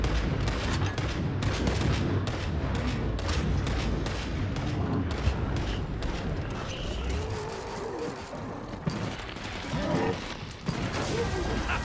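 Dense, continuous gunfire and explosions from Killing Floor 2 on a Hell on Earth map, loud and busy throughout with rapid bursts layered over game noise, while players talk over it.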